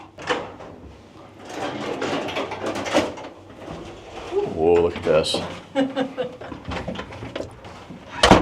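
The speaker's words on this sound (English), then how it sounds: "So we close one door, close another door, going down." The doors of a small hotel elevator in Buenos Aires slide and clatter shut one after another, close and fairly loud, while people talk and exclaim over them.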